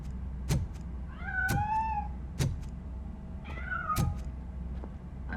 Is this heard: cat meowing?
yes